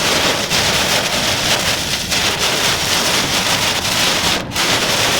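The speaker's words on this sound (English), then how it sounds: "We're driving in the rain." Heavy rain pounds a moving car during a possible tropical storm, a loud, unbroken roar of water drumming on the roof and windshield with no break in the downpour.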